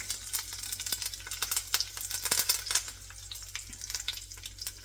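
Curry leaves and a chilli crackle and fry in a hot pan left over switched-off heat, a steady close sizzle with scattered sharp pops throughout.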